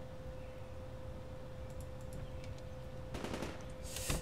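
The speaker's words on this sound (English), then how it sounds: "Oh, that was a gunshot." Gunfire rings out in the zombie survival game Project Zomboid: a short broadband burst of shots lands near the end over a steady low hum, followed by one more sharp report.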